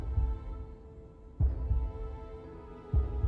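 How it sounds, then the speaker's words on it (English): Slow heartbeat in the video game Lies of P, deep muffled thumps about every second and a half over a low droning hum, faint and steady with no talking. "Also, we have a heartbeat, or are we hearing a heartbeat?"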